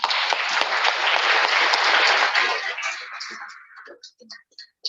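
An audience claps loudly for a few seconds, then the applause thins out into scattered claps and fades.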